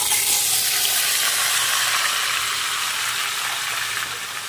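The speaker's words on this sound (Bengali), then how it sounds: "এবারে দিয়ে দিচ্ছি মটনটা" Marinated mutton lands in hot oil spiced with cloves and cumin, producing a loud, dense sizzle up close that holds steady and then eases slightly at the end.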